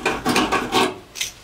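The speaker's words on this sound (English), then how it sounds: "After we drill, we always deburr the holes that are going to receive rib nuts" A deburring tool rasps around drilled holes in a Ford Transit A-frame, four short scraping strokes in quick succession followed by a fainter final one, close and alone.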